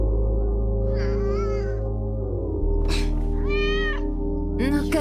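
A cat meows repeatedly in the anime Chainsaw Man, several drawn-out, rising and falling cries that sit over a steady, loud music bed.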